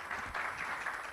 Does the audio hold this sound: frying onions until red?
no